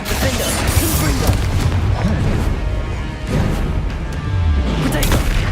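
A Confringo spell explodes in Hogwarts Legacy, one of several loud booming blasts and crashes in a dense, continuous stretch of spell-combat noise, with a voice faintly audible beneath.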